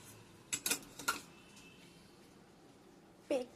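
Metal spoon scraping and clinking against a pan while onions are stirred, a few sharp clatters in quick succession followed by quiet, then one more scrape near the end.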